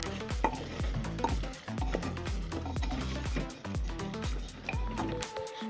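Spoon stirring ground coriander, turmeric and red chilli powder into a sizzling masala for mutton korma, a steady scraping, clinking rhythm against the pan with frying crackle underneath, close and fairly loud throughout.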